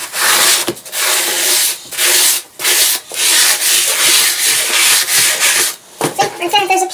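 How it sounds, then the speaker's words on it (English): A sponge is wiped hard across a floor before flooring glue goes down, giving loud, close rubbing strokes in repeated bursts separated by short pauses, with a brief clatter near the end. "your sponge and just wipe down the floor real quick, is what I'm going to do."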